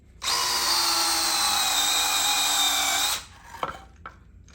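A battery drill bores through drywall into very hard wood in a closet install, whining loud and steady for about three seconds, then stopping, followed by a few clicks and knocks.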